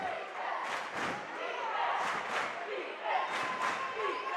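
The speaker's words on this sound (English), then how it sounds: "Seminoles crowd calling for defense." A home crowd chants for defense at a high school boys basketball playoff game in a gym, a rhythmic two-beat call repeated several times. The chant sounds fairly distant and faint over general crowd noise.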